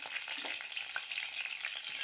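Green chillies and cumin sizzle in hot oil in a kadhai for dal tempering, a steady crackling hiss that is faint but continuous with no voices.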